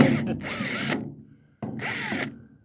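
A power drill bores through the centre of a rivet on a 1978 Chevy square body, in two whining bursts split by a short pause, close and fairly loud.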